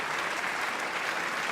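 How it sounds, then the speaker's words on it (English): Cheering-and-applause sound effect played during a podcast: a dense, steady wash of clapping at an even, moderate level, heard alone without talk. "Have you got a sound effect of cheering and stuff on there?"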